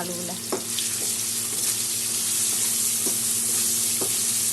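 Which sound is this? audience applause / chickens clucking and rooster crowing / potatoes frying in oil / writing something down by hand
potatoes frying in oil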